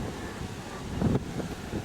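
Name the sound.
strong wind blowing in the desert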